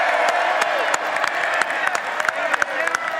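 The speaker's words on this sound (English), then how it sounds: "And now we can give a big round of applause to the Duke's Mayo Bowl champions" Stadium crowd applauds and cheers for the Duke's Mayo Bowl champion Maryland Terrapins football team, a broad wash of clapping with scattered sharp claps, moderately loud and distant.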